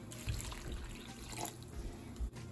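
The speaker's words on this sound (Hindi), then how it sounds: "अब मैं इसमें पानी डालूंगी।" Water is poured into a cooking pot of grated bottle gourd on the stove, a quiet continuous splashing flow with a few faint clunks, heard close and alone.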